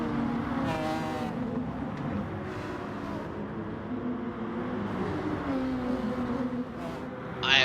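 Race car engines in the Gran Turismo Sport video game roar continuously, with shifting revs and passing cars layered over a steady mechanical drone, fairly loud throughout.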